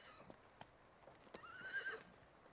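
Horses on a hillside in Sandu County, China, chosen for a race, give a faint whinny with a few sparse hoof clops, heard from a distance over quiet outdoor ambience.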